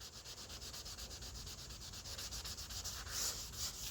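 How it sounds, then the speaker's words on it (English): Car body paint sanded by hand with 220 grit sandpaper, a steady rhythmic rasping of back-and-forth strokes, close and fairly quiet, with no voices. "take a couple of these sanding scratches out from my 220"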